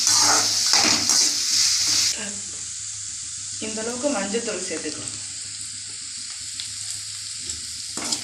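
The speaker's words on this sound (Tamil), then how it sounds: "சேர்த்து நல்லா வதக்கி விட்டுக்கலாம்" Onions and green chillies sizzling in a hot pan with stirring scrapes, while a person speaks in Tamil over the frying, cooking poori potato masala.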